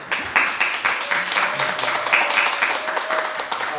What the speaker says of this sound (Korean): 제가 박수 한번 쳐드리고 싶은데